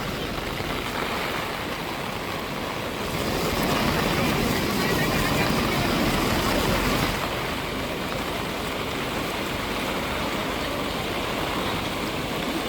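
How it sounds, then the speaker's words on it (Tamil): Heavy rain pours down in a village in Kilinochchi, a dense, loud, steady hiss of falling water that swells in the middle and continues without break. "சரியான மழை பெய்து கொண்டு இருக்கு"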